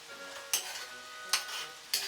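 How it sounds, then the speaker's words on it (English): Onions cook with browned beef in a pan for lasagna, a quiet sizzle under three sharp stirring scrapes spaced roughly a second apart. "Next step is to add your onions to your browned beef."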